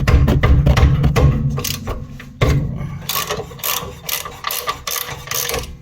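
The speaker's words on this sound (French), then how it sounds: "on va venir desserrer notre étrier. On va venir se les desserrer." A ratchet loosens the brake caliper bolts on a Volvo C70 with failed brakes, giving loud, close rapid clicking bursts with a short pause midway before the ratcheting starts again.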